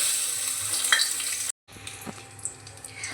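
Fish roe sizzles in mustard oil in a wok, a steady close frying hiss with a few louder spits. It cuts to a brief silence midway, then the quieter sizzle resumes.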